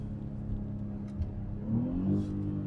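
A BMW X5 engine in Sport Plus mode downshifting, a low engine drone that swells into a brief rising rev, with a faint exhaust burble, heard from inside the car.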